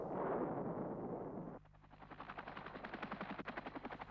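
American AH-1 Huey Cobra attack helicopter: a roaring, noisy burst gives way to a steady, rhythmic rotor chop that thumps in even pulses, with no talking.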